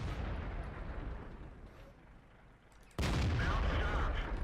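Tank cannon fire in the World of Tanks video game: a deep rumbling battle bed, then one sudden loud blast near the end that stays heavy and booming with no speech.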